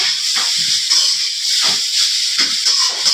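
Egg fried rice frying in a large pan over a high flame, a loud continuous sizzle and hiss that surges in repeated bursts as the rice is tossed.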